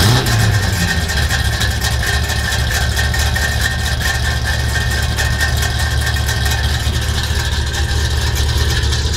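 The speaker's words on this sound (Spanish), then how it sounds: "Este no, suena el motor. Suena espectacular." A 1971 Dodge Charger V8 idles loud and close, a steady low rumble with no talk over it.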